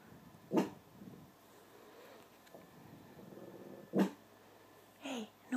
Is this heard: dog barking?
yes